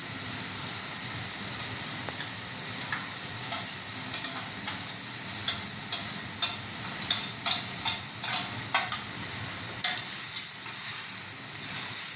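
A ground tomato and ginger spice paste sizzles and hisses steadily in hot oil for a prawn malai curry, with soft, frequent scraping taps as it is stirred, close up and continuous.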